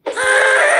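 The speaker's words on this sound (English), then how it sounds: "You guys have screaming issues! You're too loud!" Minecraft mobs scream in a video game, one loud, sustained, harsh scream that starts abruptly and holds steady to the end.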